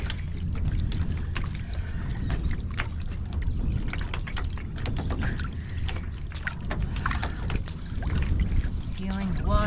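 Kayak or canoe paddle blade stroking through water during a one-mile training session, steady splashes and pours of water running continuously and fairly loud, with speech over it.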